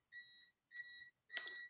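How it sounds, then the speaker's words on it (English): An uninterruptible power supply beeps during a power outage, giving three evenly spaced, steady high tones, each about a third of a second, close and moderately loud in a quiet room. "Those beeping noises are the uninterruptible power supply that I run my computer on."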